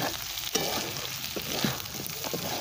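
Chicken fries in a pan for Hakka noodles, a continuous crackling sizzle up close, with scraping and knocking from a spatula stirring it at intervals.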